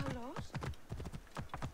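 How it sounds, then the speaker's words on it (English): Horse hooves in Assassin's Creed Origins clop in a quick, uneven rhythm of sharp strikes as the mount sets off, with a brief bit of voice at the start. "Horse, let's go."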